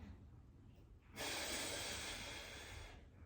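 Forceful breathing during a core exercise holding one leg extended: quiet room tone, then a loud, sustained hissing exhale through the mouth lasting nearly two seconds, close to the microphone.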